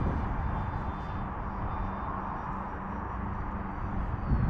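An Atomrc White Dolphin delta-wing RC plane flies overhead with a steady, jet-like whooshing drone that holds at an even level throughout and swells slightly near the end, with no voices.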